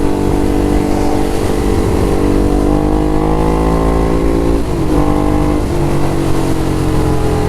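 A motorcycle exhaust revs and drones steadily through a ride, its engine pitch rising and falling in smooth sweeps under heavy wind rush, loud and continuous with no talking.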